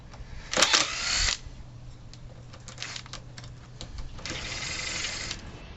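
A power driver backs latch screws out of the frame of a vintage travel trailer in two short whirring bursts, the first louder and sharper, with quieter clicks and handling noises between them.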